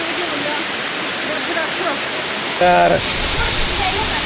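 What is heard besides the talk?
waterfall flowing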